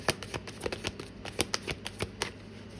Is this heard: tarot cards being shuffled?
yes